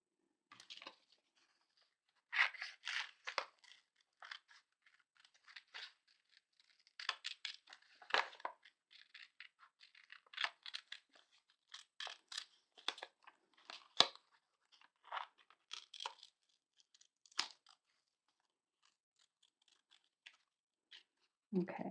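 Scissors snip through paper in short, crisp bursts of cutting, close and fairly quiet, with pauses between cuts and occasional faint speech.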